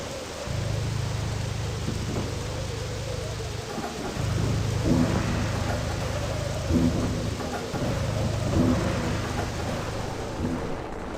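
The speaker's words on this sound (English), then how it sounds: "the miserable weather like blizzards and thunderstorms rolling in" Thunderstorm with steady rain in the Freedom Fighters game, a continuous wash of rainfall with low rumbling thunder rolling in repeatedly beneath a constant hum.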